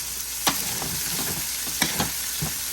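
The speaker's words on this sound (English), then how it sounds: "We got the heat all the way up now, y'all. More olive oil, because we're doing our stir fry thing now." Food stir-fries in olive oil over high heat, a constant dense sizzle broken by several sharp spatula scrapes and knocks against the skillet.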